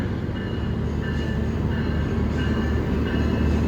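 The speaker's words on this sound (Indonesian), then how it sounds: "Ini kereta api Bima masuk di jalur 1 stasiun" Bima executive passenger train hauled by a CC 206 locomotive at Cirebon station, platform line 1, at night, with a steady loud rumble of rolling cars and faint squealing tones throughout, no talk.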